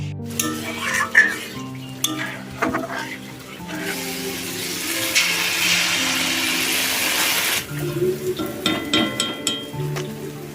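Semolina simmers with milk and a little water in a pan, giving a sustained bubbling, hissing sizzle in the middle stretch, with stirring clatter and faint tones before and after.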